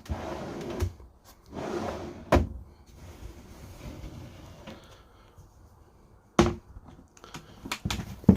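A storage drawer beneath the kitchen units of a 2022 Swift Elite 880 caravan slides out with soft rumbling, then sharp clunks and knocks sound at intervals, close and fairly quiet.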